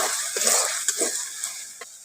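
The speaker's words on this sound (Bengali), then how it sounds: "জিরে কাঁচা লঙ্কা বাটাটা দিয়ে ভালো করে একটু কষে নিচ্ছি" Green chilli and cumin paste frying in a pan for a village-style prawn curry, a steady close sizzle with a few sharp scrapes and clinks of a spoon stirring against the pan.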